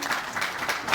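A crowd applauds at a Kenyan political gathering as counties are named: a dense, steady wash of clapping for about a second, fairly loud, with no distinct voices.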